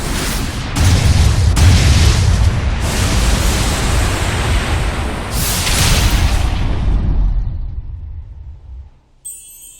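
A single cannon-like shot fired on command in Tales of Zestiria, a loud close boom followed by a long roaring explosion rumble that swells again and fades out.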